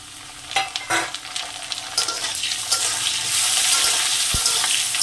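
Potatoes frying lightly with tomato and green chili in a pan, loud continuous sizzling that swells toward the end, with scraping and stirring knocks near the start and no voices.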